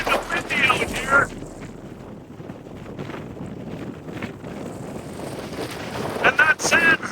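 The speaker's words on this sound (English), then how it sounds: "It's kind of windy out here." Strong outdoor wind in northern Namibia buffeting the microphone in steady rumbling gusts, with brief speech-like voices at the start and end.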